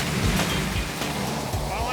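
Six high-pressure fire hoses blast water to lift a car off the ground, making a dense, continuous roaring rush of spray that stays loud and close for the whole stretch.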